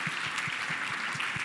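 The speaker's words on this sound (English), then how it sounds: "A round of applause for our innovators there." Applause from a conference mainstage audience for the innovators, a dense steady wash of clapping at moderate level with no voices over it.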